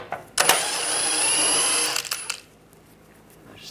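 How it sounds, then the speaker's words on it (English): A tool spins out a bolt from the underbody shield of a 1996–2002 Toyota 4Runner with a 13mm socket, a sustained whirring buzz of about two seconds with clicks at start and end, close by. "Take the bolts out."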